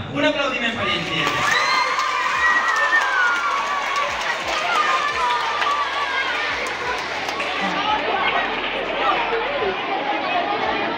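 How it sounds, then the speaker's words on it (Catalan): A crowd cheering, shouting and applauding for a winning team at a Científics en Joc student science competition, with excited children's voices and scattered clapping over lively chatter. "Un aplaudiment per ells."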